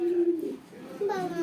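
Racing pigeons coo on a farm in Gazipur, Dhaka, with low, soft, drawn-out tonal calls rising and falling close by, two or three phrases in quick succession over a faint background.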